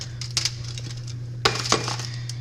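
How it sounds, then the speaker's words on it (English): Ice tossed into a preheated oven holding a pizza stone lands as a few sharp clinks and rattles in two small bursts over a steady low hum. "Here, I'm gonna put about a cup of ice."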